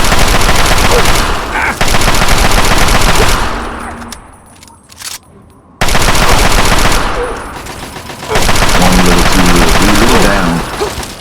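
Rapid machine-gun fire from the video game Fallout 3, loud sustained bursts that drop off to a quieter gap before the shooting resumes, with a voice talking briefly over it.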